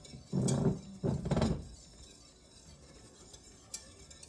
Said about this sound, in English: And then we'll just add in the rest of the milk and continue stirring.